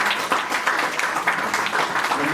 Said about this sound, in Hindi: ऋतिका के लिए जोरदार ताली हो जाए